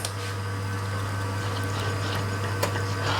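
An espresso coffee machine pumps water through its portafilter for a cleaning flush, a steady rushing, humming stream with a constant low motor drone, continuous and close with no talking.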